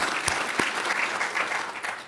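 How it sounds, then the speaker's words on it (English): A room of small business owners in New York City applauds in a short, full burst of clapping heard close and at steady volume, with a couple of sharper claps standing out. "I want to give everybody a round of applause"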